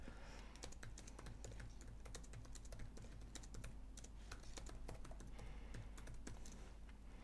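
Steady, continuous typing on a computer keyboard while writing a long line of frontend code, with rapid, even keystroke clicks close up and no speech.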